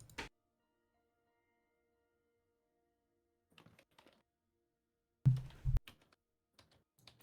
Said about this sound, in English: Just hear him type away.